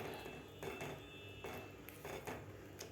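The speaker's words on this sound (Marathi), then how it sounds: "थोडंसं घट्टसर होईपर्यंत आपल्याला हे हलवून घ्यायचं आहे" Thick besan (gram flour) batter being stirred in a pan for patwadi, with repeated soft scraping and clinking strokes of a spoon against the metal at a steady pace, close and moderately quiet.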